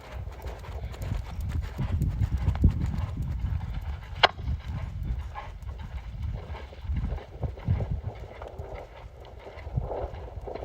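Horse hooves clip-clopping on arena ground through loping walk-to-canter departures, a rhythmic drumming beat that rises into the quicker three-beat canter, fairly close and steady with faint background noise.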